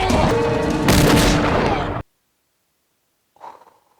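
Gunfire in the Firefly episode The Train Job: a loud, dense burst of booming shot sounds that cuts off abruptly into silence, followed by a faint brief sound.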